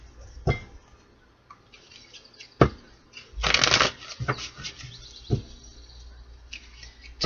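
An archetype tarot-style card deck is shuffled by hand in a few separate bursts, crisp riffling snaps and flutters with quiet gaps between, close and clear.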